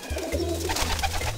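High-flying pigeons coo softly and steadily from a rooftop coop, a low murmuring hum that carries through the whole moment with no voices.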